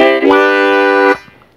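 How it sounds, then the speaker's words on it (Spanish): A standard C harmonica sounds one steady, reedy chord for about a second, played close and alone before cutting off cleanly. "veamos cómo suena una armónica do normal y una armónica low do"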